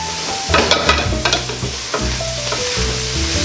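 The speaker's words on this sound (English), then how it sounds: "start stirring everything together" A Cajun gumbo roux is stirred with onion, celery and bell pepper, producing a sizzle under brisk spatula scrapes and knocks against the pot that come in quick bursts.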